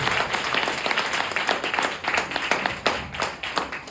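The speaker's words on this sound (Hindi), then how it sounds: "Can we give God a mighty hand of praise?" A church congregation at a fellowship service claps in praise of God, with a close, lively patter of many hands forming a loud, uneven rhythm that swells and dips.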